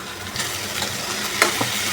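Chopped capsicum goes into a pan of onions frying with salt over a high gas flame, giving a steady sizzle with a sharp clattering scrape as the pieces drop and are stirred in.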